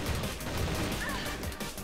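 Gunfire from the online shooter CrossFire, a dense continuous barrage of shots and blasts filling the whole stretch at steady loudness, with no clear gaps between reports.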